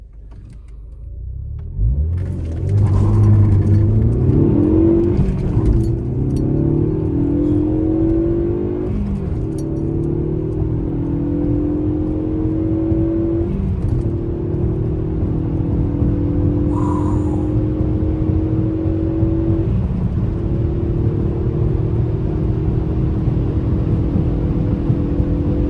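A 2018 Ford Focus ST fitted with a green aftermarket air filter revs hard, its engine note climbing loudly and steadily in a long, sustained pull with no talking.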